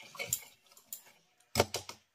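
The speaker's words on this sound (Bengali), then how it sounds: "এবারে আমি এই সমস্ত উপকরণগুলো প্রথমে একবার ভালো করে মিশিয়ে নেব" A spoon clinks against a bowl as dry ingredients for Bengali patishapta batter are stirred, giving a few sharp, close ticks and scrapes in short bursts with quiet gaps between them.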